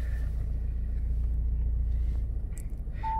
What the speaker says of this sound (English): I'll just start the vehicle to show you free of any warning lights.